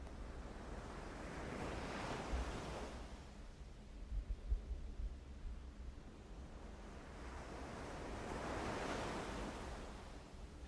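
Ocean waves roll onto an island shore, two broad swells rising and receding over a steady background of surf and light wind, with no voices.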